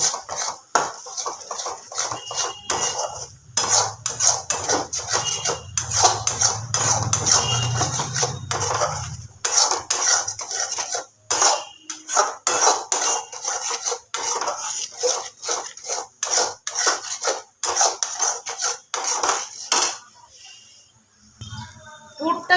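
Green pea kachori filling gets stirred nonstop in a pan, the spoon scraping and clinking in quick irregular strokes with brief pauses, and a low rumble early on.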